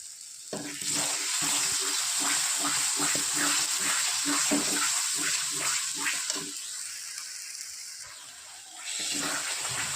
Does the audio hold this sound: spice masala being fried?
yes